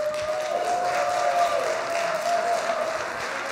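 An audience at a city council hearing applauding, a dense patter of clapping held steady for several seconds, with a faint tonal hum running underneath.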